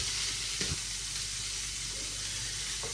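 Rump steak sizzles steadily in a hot pan, a constant close hiss with a few faint knocks and scrapes across the three seconds.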